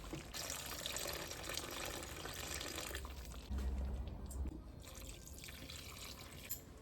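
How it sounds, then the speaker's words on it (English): Faint trickling and splashing of water being poured into a cooking pot of potatoes and cream, a continuous quiet pour with a slightly heavier gush partway through. "So I'm going to add some water to it now."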